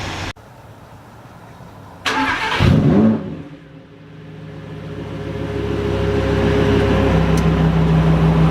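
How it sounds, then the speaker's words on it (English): Lamborghini Huracan engine in Corsa mode fires up with a sharp blip, revs loudly for about a second, then settles into a steady, deep idle rumble, heard alone without speech. "Rev it up in Corsa mode."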